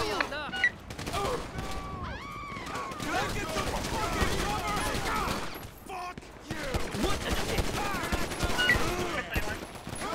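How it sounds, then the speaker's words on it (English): Bursts of rapid gunfire crackle repeatedly over a busy game soundtrack in GTA 5 with the LSPDFR police mod, with a brief lull midway before the shooting resumes. "we got gunfire out here"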